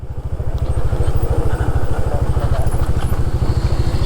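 A motorcycle engine on a high mountain road in Bokod, Benguet, Philippines, chugging loudly and close with a fast, steady pulse as it passes, wind noise faintly underneath.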